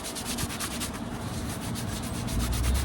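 Cloth rubbing plastic car trim clean with acetone, a soft, steady scrubbing swish in quick repeated strokes, close and fairly quiet.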